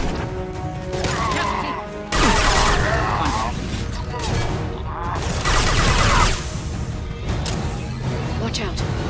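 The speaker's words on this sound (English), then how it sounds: "Watch out! Flashbangs! Get them off their feet!" Flashbang grenades go off during a firefight in Mass Effect 2, bursting as several loud cracks and crashes amid gunfire while voices shout.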